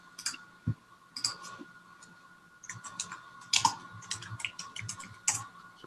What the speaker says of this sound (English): I was typing some notes